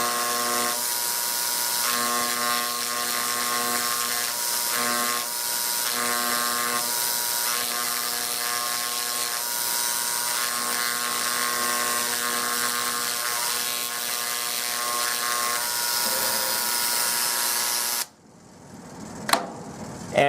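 An electric engraver buzzes steadily and close while engraving a sample number onto a mount, a continuous high whirring hum with slight pulses, cutting off abruptly near the end before a couple of faint clicks.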